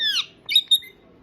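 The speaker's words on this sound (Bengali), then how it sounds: "মিঠু পাখি মিঠু পাখি কে মিঠু পাখি" A parrot squawks three times in quick succession, loud, shrill and close, with short pauses between the calls.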